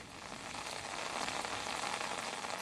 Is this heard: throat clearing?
no